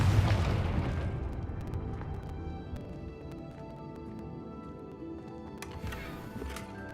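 A Confringo fire spell blasts in Hogwarts Legacy with a loud booming burst at the start that decays into scattered crackles and pops, plus another flurry of sharp pops near the end.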